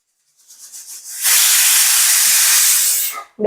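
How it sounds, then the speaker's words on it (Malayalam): A loud, steady hiss of steam rushing out of a pressure cooker whistle for a couple of seconds, cooking raw jackfruit, preceded by softer sputtering, then cutting off abruptly. "നമ്മുടെ വിസൽ അടിച്ചിട്ടായിണ്ട്"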